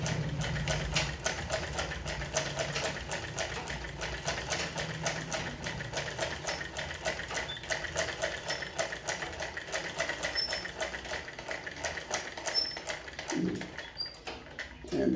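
A sewing machine stitches a shirt lining in a steady, rapid mechanical chatter that runs nearly unbroken, close and fairly loud, with faint handling noises near the end.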